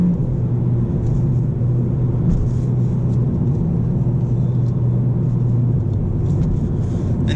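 A 2019 Mercedes CLA180 engine in sports mode drones steadily while driving, a continuous low hum with road rumble and no speech.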